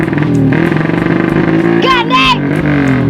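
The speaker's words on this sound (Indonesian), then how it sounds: "Kalah ngagaul-gaul motor di buruan." A motorcycle engine revs and roars close by in a yard, its pitch rising and falling over about three seconds, with people talking over it.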